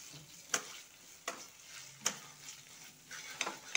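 Ginger paste fries in a little oil with a soft, constant sizzle, broken by several distinct scrapes of a spoon stirring around the pan at uneven intervals; no one speaks.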